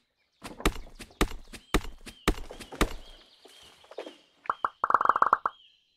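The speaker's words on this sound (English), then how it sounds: "Love that noise of picking up all the sticks." Picking up sticks in Weed Farmer Simulator, a video game: a rapid series of sharp wooden clacks and knocks, fairly close, followed by a short burst of quick rattling pickup sounds.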